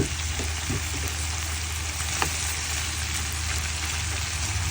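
Food seasoned with salt and pepper frying in a pan, a steady close sizzle running unbroken under a low background hum, with no talking.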